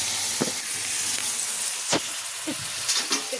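Desi chicken meat sizzling in a pan with halved onions and whole chillies gives a steady hiss, broken by brief bursts of spitting and stirring.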